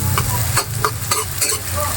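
Onions frying and being stirred in a pan for a Filipino eggplant omelette with ground meat: steady loud sizzle broken by several scraping stirs of a spatula, no talking.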